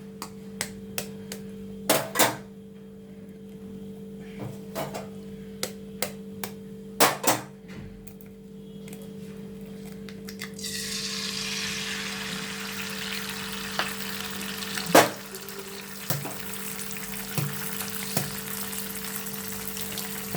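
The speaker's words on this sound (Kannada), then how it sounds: "ಆಯಿಲ್ ಹಾಕಿ ಆಗಿದೆ. ಈಗ ಎಗ್ ಹಾಕೋಣ ಇದಕ್ಕೆ." Eggs dropped into hot oil in a pan set off a rising, crackling fry that holds steady, with scattered spatula knocks before and after.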